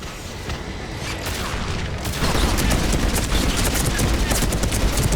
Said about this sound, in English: Firing another salvo.